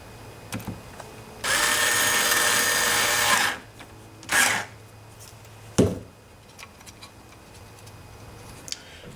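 A power drill runs in one steady burst of about two seconds while driving a screw into a 5.25-inch floppy disk drive, followed by a few shorter whirs and clicks, close up and without speech.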